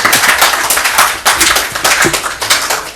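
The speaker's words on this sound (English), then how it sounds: "Another applause is deserved here." Applause from an audience at a Ghanaian political announcement, loud and close, with distinct individual hand claps forming an uneven rhythm, sharper bursts standing out among scattered claps.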